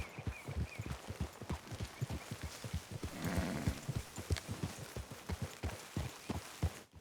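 Horse hooves clip-clop steadily in an even trotting rhythm within the Red Dead Redemption 2 game world, close and moderately loud, with a brief rise of ambient noise midway and no talking.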